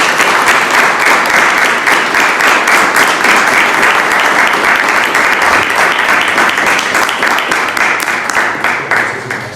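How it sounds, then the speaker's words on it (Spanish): Audience applause fills a hall after a talk by a priest, dense and steady sustained clapping from a large crowd, loud and close, tapering slightly at the end. "Un aplauso."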